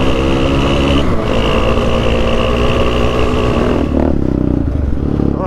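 A Kawasaki KFX450R quad's engine revs hard in fourth gear on a trail during a wheelie, a loud, steady buzzing roar with a brief dip and a shift in pitch near the end.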